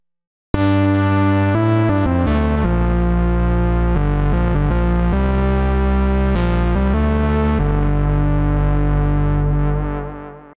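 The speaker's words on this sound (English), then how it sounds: "Let's just check out this patch now using chorus and echo." A sustained synthesizer chord plays with a shimmering chorus and echoing repeats, notes shifting a few times before ringing out and fading at the end.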